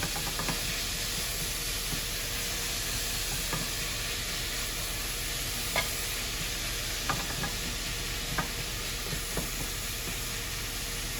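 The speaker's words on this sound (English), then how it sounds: "I'm just gonna stir it up so the flavor gets everywhere" Zucchini noodles and cooked meat are stirred in a hot pan, sizzling steadily throughout with occasional soft scrapes and clicks from the utensil.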